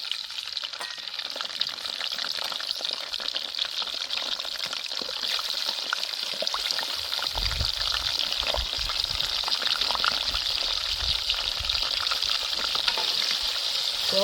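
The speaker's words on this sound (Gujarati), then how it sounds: "તો આપણે એને ધીમા તાપે ફ્રાય કરવાના છે." Potato pieces (aloo) frying in hot oil over low heat, a steady close sizzle with soft bubbling and occasional stirring, no voices.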